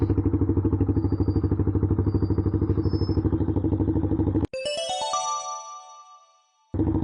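A motorcycle that has just lost its slip-on exhaust runs loud and raw with a fast pulsing beat, then cuts off with a clattering crash and ringing metal before the engine noise returns.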